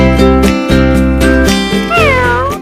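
A cat meows loudly and clearly several times in succession, each call a drawn-out, rising and falling cry heard close up with no other sounds around it.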